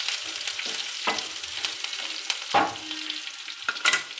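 Garlic paste sizzling and frying in a pan with curry leaves, a steady crackling hiss broken by several sharper spatters and stirring scrapes, close and alone with no voices.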